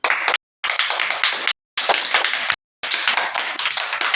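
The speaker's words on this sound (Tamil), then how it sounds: "ஃபர்ஸ்ட் எல்லாரும் ஒரு தடவை நல்லா கைதட்டுங்க" An audience claps hands at a children's event marking Kamaraj's birthday, Education Development Day, in three loud close bursts of brisk clapping separated by short silent gaps.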